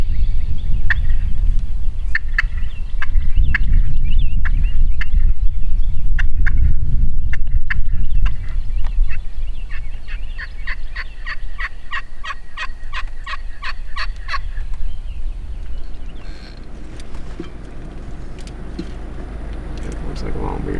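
Wild turkeys gobble repeatedly in the distance during a Louisiana spring hunt, bursts of rattling calls recurring over a steady low rumble of passing road traffic, with a voice talking quietly at times.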